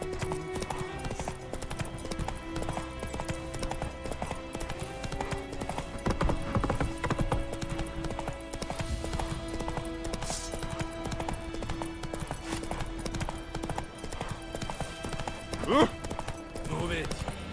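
Roach, the horse in The Witcher 3, gallops with a steady, rapid clip-clop of hooves throughout, set against background game music and ambience, with a brief louder accent near the end.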